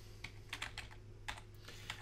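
A computer keyboard is typed on quietly, with about half a dozen light, crisp keystroke clicks in a short, uneven burst.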